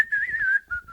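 A person whistles a single short, clear, steady tone that wavers slightly in pitch and breaks off briefly before a final note, close and alone.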